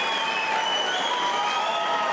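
Steady roar of a 1,000-strong Brisbane crowd at a professional squash match, a continuous wash of cheering and applause filling the hall without letup, loud and sustained.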